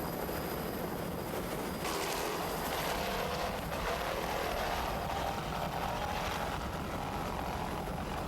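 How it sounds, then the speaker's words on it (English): Offshore powerboat racing with twin 600 horsepower Bandit inboard engines, a continuous distant engine roar and drone that swells slightly, steady throughout with no talk. "Just listen to those two 600 horsepower Bandit inboards."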